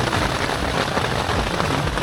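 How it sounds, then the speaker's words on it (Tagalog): Steady, dense patter of heavy rain on a family camping tent at a farm resort, close and continuous with no voices. "Kasi umuulan"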